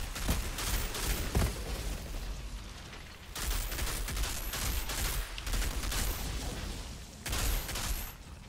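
Rapid bursts of gunfire from the Outriders video game crackle in dense volleys that pause briefly and resume, fairly quiet with no clear voices.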